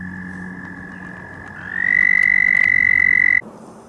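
A close toad gives a continuous high trill that swells louder midway, then cuts off abruptly, with a faint background hum.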